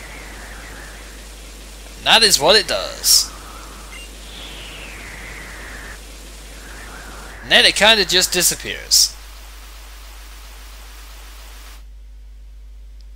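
Rainstorm weather effect in the video game Pokémon Black, a steady soft hiss of falling rain running under two bursts of louder game sounds, with someone talking over it before it cuts out near the end.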